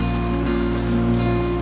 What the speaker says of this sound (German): Das Wasser rauscht, der Regen spielt nun mal an.